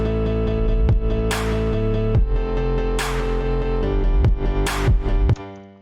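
A house melody built from FL Studio stock plugins plays as repeating synth chords over a deep bass and a steady beat, with bright sweeps rising at regular intervals. The sound is full and continuous, with no voices.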